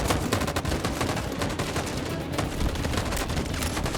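Rapid bursts of gunfire from the video game Detroit: Become Human, dense and continuous throughout with repeated sharp shots layered over a loud, busy game mix.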